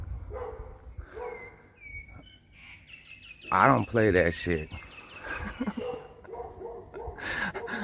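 Dogs out in Thailand bark in a few sharp bursts mid-clip, close by, while someone talks and birds chirp in the background.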